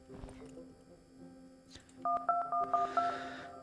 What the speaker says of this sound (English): Call him on the phone and interrogate.